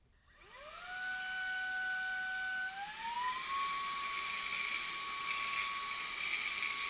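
A 2-in-1 electric air blower and vacuum with its attachment fitted winds up over about half a second into a loud, steady high-pitched whine, rising once more in pitch before holding a constant roar.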